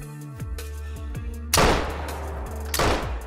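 Rifle shots in the hunting game theHunter Call of the Wild: two loud, close booming reports about a second apart, each trailing into a long rolling echo, over a low ambient game hum.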